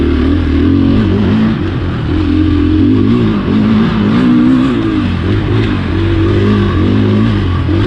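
A 2020 KTM 500 XCF-W dirt bike ridden at Crow Canyon, its engine droning loud and close with steady rising and falling revs throughout, no voices over it.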